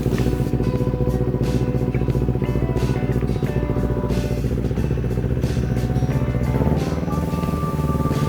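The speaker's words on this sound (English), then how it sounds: "Hit the ignition switch and starter button." Go-kart powered by a Kawasaki Ninja 250 engine, started with the choke on, settles into a steady, close, buzzing idle with a constant even drone and no speech.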